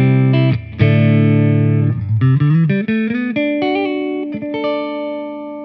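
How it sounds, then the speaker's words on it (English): A Peavey mini guitar amp head on its clean channel with heavier, surf-style reverb, playing a loud, close run of chords and picked notes that ring out with a washy tail. "Now let's make it a little bit more reverb, kind of a surf tone."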